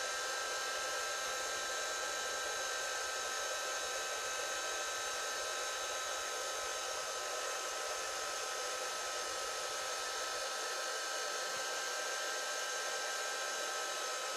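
A heating tool used on paper crafting materials blows in a steady, loud hiss that holds the whole time, with a low rumble that drops out near the end.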